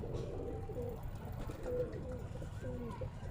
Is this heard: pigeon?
yes